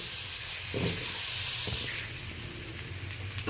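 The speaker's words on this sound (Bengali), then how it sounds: "ওই তেলে আমি আলুটা ভালো করে ফ্রাই করে নেব" Steady broadband hiss and sizzle of potatoes frying in about a spoonful of oil in a wok, close by, with a few soft clinks of a utensil against the pan.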